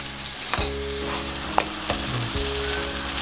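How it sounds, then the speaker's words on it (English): Tomato puree and mawa sizzle in a pan with poppy seed and cashew paste for malai kofta gravy, a steady close frying hiss broken by a few soft scrapes of stirring. "Keep stirring so that it doesn't stick at the bottom."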